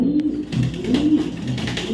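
Racer pigeons coo close by in low, repeated throaty calls that pulse steadily over a soft background.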